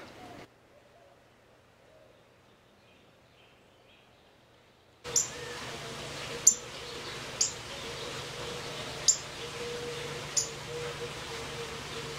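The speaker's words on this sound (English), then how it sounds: "listen to the singing of the birds" Birds call at an Orthodox monastery in the early morning, a few sharp chirps recurring at intervals over a quiet outdoor background.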